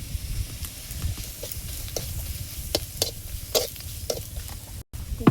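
Onion browned in a pan with turmeric and chilli, steadily sizzling and frying while a utensil stirs and scrapes in repeated strokes, close and continuous with no voices.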